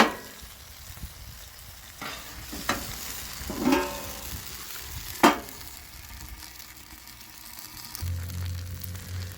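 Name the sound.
onions caramelizing on a Blackstone griddle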